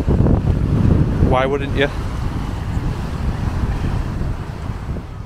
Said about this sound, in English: I do always spend a little bit of time just watching the waves.